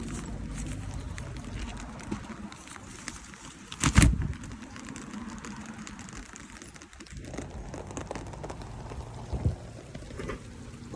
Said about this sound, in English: Come on, Roma. It's raining.